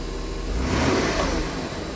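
Mercedes W124 500E, a 1992 silver car with a Lorenzer rear exhaust can, revving briefly. A deep engine rise and fall swells to a peak and then settles back, heard fairly close and alone.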